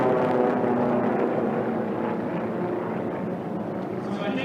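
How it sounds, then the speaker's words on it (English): Formula One racing plane at the Reno Air Races, a steady droning engine roar from the air, heard under a commentator talking throughout. "That aircraft seems to be smaller than some of the other ones"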